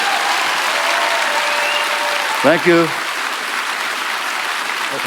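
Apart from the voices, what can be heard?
audience applause for a speaker at a fundraiser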